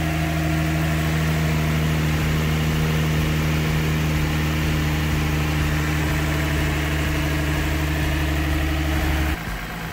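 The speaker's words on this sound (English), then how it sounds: "Right now we're waiting for the vehicle to get up to operating temperature" Nissan 350Z 3.5L V6 engine idles steadily while warming up, a loud, constant low rumble with a smooth hum that holds evenly and drops slightly at the very end.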